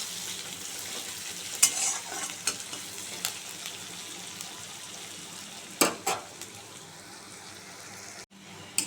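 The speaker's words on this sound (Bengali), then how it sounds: "পেঁয়াজটা একটু ভাজা ভাজা করে নেবো আগে।" Onions sizzle and fry steadily in a pan, a continuous close crackle broken by occasional sharp scraping stirs and clinks, with a brief drop near the end.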